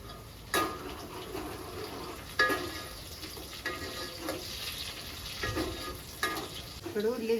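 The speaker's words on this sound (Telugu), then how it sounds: "ఇప్పుడు ఉల్లిగడ్డ అన్నీ మంచిగా ఫ్రై అయినాయి." Onions fry in a pan for a fish curry, a continuous close sizzle punctuated every second or so by louder stirring scrapes of a spoon, with no one speaking.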